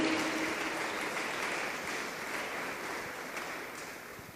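Church congregation clapping together during a sermon, a steady dense wash of applause held at a fairly even level for several seconds, moderately distant with no voices standing out.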